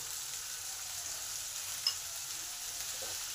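Sajne flowers and other vegetables with salt and turmeric are stirred in a hot pan, producing a soft, even sizzle with a faint scrape or clink partway through and no voices.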